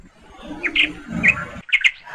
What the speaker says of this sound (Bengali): শুধুমাত্র পাখিদের ডাক শোনা যাচ্ছে